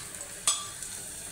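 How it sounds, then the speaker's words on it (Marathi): Onion sautéing in a pan with green cardamom, cloves, star anise, cinnamon, caraway and bay leaf, a soft steady sizzle with one sharp scrape of the spatula partway through. "आता हा कांदा चांगला परतवून घेतलाय"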